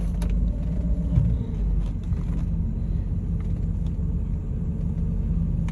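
A 1989 Mercedes-Benz 560SL, idle for two weeks, runs at a steady low rumble that stays even and moderately close throughout, with no voices over it.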